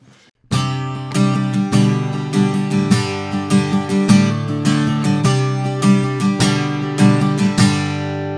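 Acoustic guitar strummed and picked with a full, bright tone, recorded with an XY microphone pair, chords ringing out clearly and close for several seconds after a brief quiet start.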